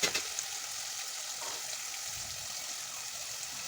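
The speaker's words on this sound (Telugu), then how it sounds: "ఈ విధంగా సాల్ట్ వేసుకొని ఫ్రై చేసుకుంటే తొందరగా ఫ్రై అయిపోతాయి" Onions frying with salt in a pan, producing a steady, fairly faint sizzling hiss near the start with a couple of light stirring taps, and no talking.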